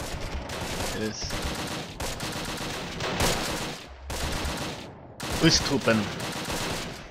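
Machine gun fire crackles in bursts during a Close Combat: The Longest Day battle, with rapid repeated shots coming in several clusters under and between spoken words.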